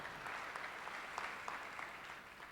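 A church congregation applauds at an evangelical anniversary gathering, an even, faint wash of many hands clapping together, steady for a couple of seconds without voices on top.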